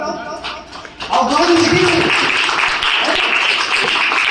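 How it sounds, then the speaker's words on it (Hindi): Congregation at a village meeting in Grace Church breaks into sustained clapping after a preacher's voice, a dense loud wash of applause continuing to the end. "ताली बजाओ।"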